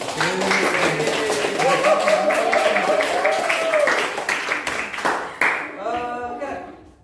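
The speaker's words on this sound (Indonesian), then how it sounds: "Sebelum kita beli aplaus dulu untuk para presentator" An audience in a university lecture on academic ethics and AI use claps for student presenters, a dense burst of applause that thins out, with speech sounding under and after it.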